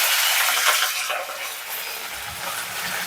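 Curry leaves hit hot oil with cumin in a kadhai, letting out a loud, bright sizzle that flares at the start, eases briefly, then surges again with stirring scrapes over about three seconds.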